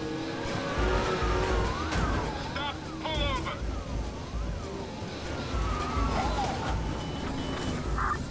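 McLaren supercar driven in the Watch Dogs video game, engine roaring steadily throughout amid police sirens wailing and rising, with game traffic and effects layered over it.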